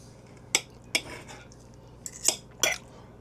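A knife slicing cooked picanha steak on a board gives a few sharp, separate clicks and scrapes, spaced out with quiet gaps between them.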